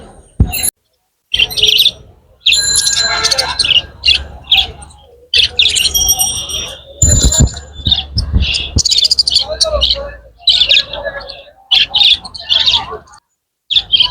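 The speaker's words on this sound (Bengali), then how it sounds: "কি কি বাজিগার আছে বিভিন্ন জাতের আছে লুটেনো আছে আরো অনেক জাতের আছে" Budgerigars, including lutino and other varieties, chirp and squawk busily at an outdoor bird and pigeon market in Kaptan Bazar, with dense, overlapping bird calls and brief pauses, close and fairly loud.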